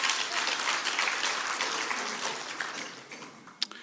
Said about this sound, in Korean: 괜찮으시면 박수 한번 쳐주십시오.